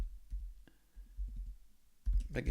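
Faint computer mouse clicks while fields are being saved: a few sparse, quiet ticks, then a denser, louder burst of clicking near the end, with no voice.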